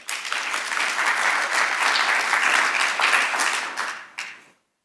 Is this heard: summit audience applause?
yes